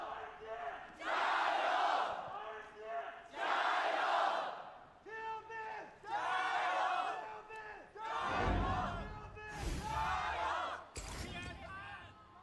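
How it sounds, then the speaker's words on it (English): A roaring crowd fills RNG's home stadium during a League of Legends Worlds semi-final series, swelling in loud waves of cheers and chants with deep thumps. Commentators speak over parts of it. "Already, you can hear the crowd."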